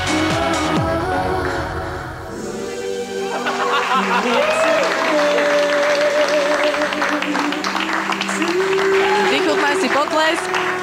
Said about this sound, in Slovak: Vychutnaj si potlesk.